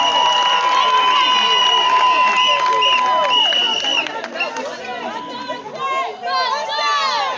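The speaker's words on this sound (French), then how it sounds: "Est-ce qu'on va applaudir très fort pour les futurs mariés?" Wedding guests applaud and cheer for the couple at a ceremony, with loud crowd chatter, shouts and clapping swelling together, preceded by sustained musical tones.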